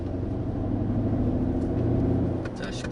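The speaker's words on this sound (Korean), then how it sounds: "아주 엔진 소리가 낮게 깔리지만 상당히 위험 있는, 무게감 있는 이런 소리를 들려주고 있습니다" A Mercedes-AMG GLE 63 4Matic engine gives a low, heavy growl from inside the cabin while cruising, a steady rumble with little other noise.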